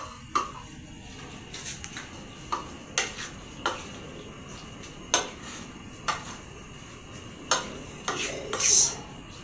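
A spoon scrapes and clinks against a pan while stirring an ube mixture with carrot, sharp metallic taps recurring every second or so, close and fairly quiet.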